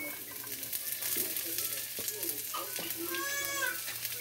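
Onion frying in a pan while cooking igado, a steady sizzle with scattered clinks and stirring, and a faint voice in the background.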